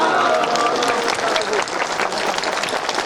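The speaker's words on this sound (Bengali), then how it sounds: "জোরে হাততালি দিন" Loud, dense audience applause fills the scene at an outdoor gathering addressed by Dr. Yunus and the UN Secretary-General for Rohingya refugees, steady clapping from a large crowd throughout with a brief dip midway.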